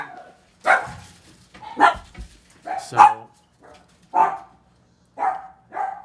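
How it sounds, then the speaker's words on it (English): Several dogs bark in short separate bursts, about six loud barks spread through the moment, as someone comes to the door of a home. A brief spoken word sits near the start. "somebody comes to the door right in the middle of filming, and the dogs bark"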